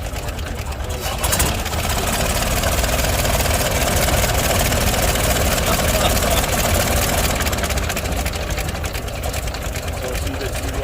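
A cold old engine from a car found abandoned in a field runs at a fast idle, a steady continuous mechanical chug that stays loud and close throughout, with a voice speaking over it.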